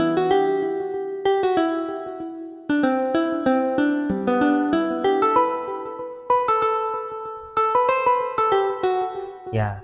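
Plucked acoustic guitar melody programmed in FL Studio for a zouk beat, a steady run of bright, close notes in a simple repeating phrase with short gaps between phrases, played alone without voices.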